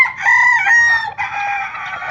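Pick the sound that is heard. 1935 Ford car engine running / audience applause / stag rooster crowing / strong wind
stag rooster crowing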